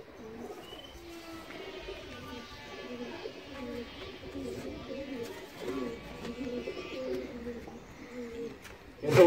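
Racing pigeons in a loft cooing, with repeated soft throaty coos layered from several birds nearby, steady over a low background murmur, with a brief louder noise at the end.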